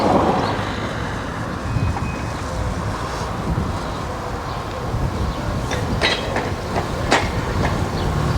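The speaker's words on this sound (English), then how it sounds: "And we've got another train coming." A train passes through Whittlesey station as a steady, broad rumble of wheels and motion. It holds for the whole stretch, with faint clicks and rattles near the end, and there is no talk.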